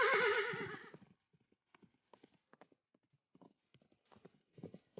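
Cartoon horse hooves clip-clop in a light, irregular patter after a brief loud neigh at the start, alone with no talk.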